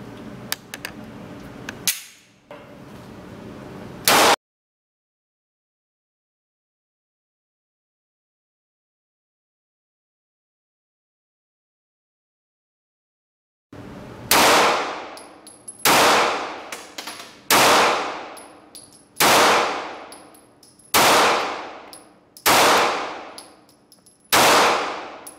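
Walther PPS 9mm compact pistol fired at steel targets: seven sharp shots in a fairly even string, each followed by a ringing metallic clang of steel, after some handling noise and a long silence.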